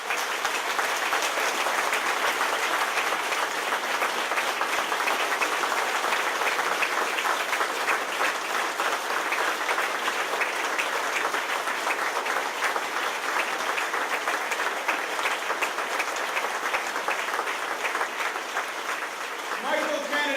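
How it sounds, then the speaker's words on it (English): Steady, dense applause from an audience greeting Governor Andrew Cuomo at a legislative announcement, sustained at an even level for about twenty seconds with no break. "Ladies and gentlemen, let's give him a round of applause."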